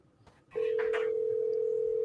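A phone line tone sounds while calling someone back, a single steady electronic tone that starts suddenly and holds unbroken, clear and fairly loud, after a brief faint noise.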